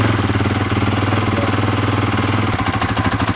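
A 4-stroke KTM 450 SX-F dirt bike engine, 2013-2015 model, idles loud and close with a rapid, even pulsing rhythm that shifts slightly near the end.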